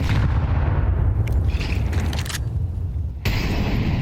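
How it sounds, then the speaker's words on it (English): Grenades exploding in a Counter-Strike match, a dense, continuous rumble of blasts and low booms, with sharper bursts near the middle and a bright crackling hit toward the end. "we get Quesarado dropping his nades in response"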